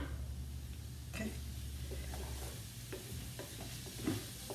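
Spices cooking in a little olive oil in a pan make a continuous close sizzling hiss, with light stirring scrapes over a low steady hum.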